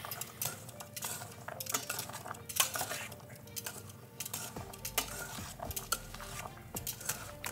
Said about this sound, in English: We're just gonna take our tongs and we're gonna mix it up.